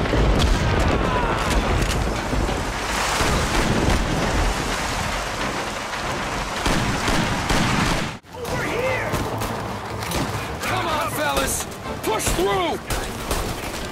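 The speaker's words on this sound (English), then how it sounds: "Listen to how the original game favors a stormy ambience over the remake's high tempo" A stormy ambience in the Mafia video game: heavy rain pours continuously with deep rumbling thunder, then after a sudden brief drop the rain resumes under distant gunfire-like cracks and voices.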